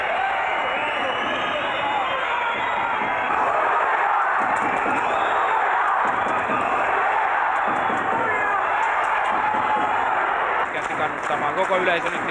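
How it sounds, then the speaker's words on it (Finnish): A crowd roars and cheers inside an ice hockey arena during a Finnish league game between Lukko and SaiPa, a loud sustained swell of voices and noise with a commentator talking over it. "Koko yleisö nyt sitten mukaan."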